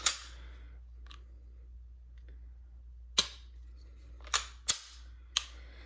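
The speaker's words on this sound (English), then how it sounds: "The reset is pretty decent, and it's audible. You can hear it, feel the click." A handful of sharp, isolated metallic trigger reset clicks from a Sig P320 pistol, spaced irregularly over a few seconds, close up, with quiet hum between them.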